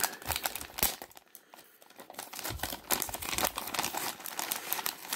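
Thin plastic baggies holding three action figures crinkle and crumple in close, irregular bursts as they are handled, with brief sharper rustles between quieter moments.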